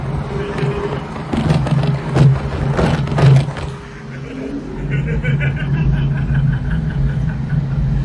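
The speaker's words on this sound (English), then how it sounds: "You guys can hear the fancy cars now." Car engines idle and rumble steadily nearby while a person talks and chuckles over them, and the motor sound carries on alone afterward.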